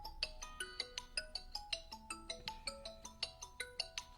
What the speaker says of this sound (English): excuse me, bloody phone calls, do me head in